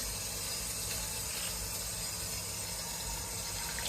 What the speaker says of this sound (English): And I will add some water.